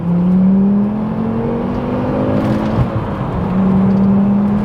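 A manual Volvo S60R sports sedan with a lightened flywheel revs hard under acceleration, its engine note climbing in pitch, easing briefly, then rising again, loud and close with a whirring drivetrain beneath.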